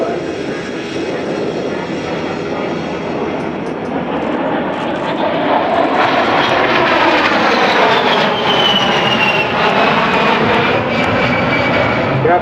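A 16,000-kilogram A-10 jet performing rapid rolls at an air show in Singapore, its loud, continuous engine roar swelling and shifting in pitch as it passes at moderate distance, with no talk over it.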